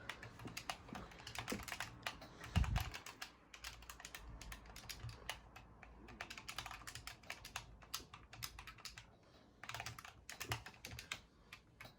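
Triggers and buttons on a Victrix Gambit Xbox controller are clicked rapidly in irregular bursts, giving sharp, faint plastic taps with short pauses between flurries and no voices.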